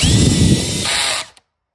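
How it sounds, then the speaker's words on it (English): Power drill running steadily at high speed, driving a screw through a bracket during assembly of a 12x20 wooden shed, loud and close, with a pitch shift partway through before stopping abruptly. "drill it in, and then your bracket is attached, ready to go"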